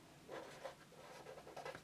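A pen writing down a hand measurement while knitting mittens on a machine: soft, faint scratching strokes in a short quiet burst.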